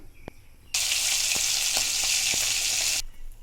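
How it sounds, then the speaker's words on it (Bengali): Fish drops into hot mustard oil with a sudden loud sizzle that holds steady for about two seconds, with a few soft knocks, then cuts off abruptly; no voices. "তেলটা গরম হয়ে গেছে, আগে মাছগুলো ভেজে নেব।"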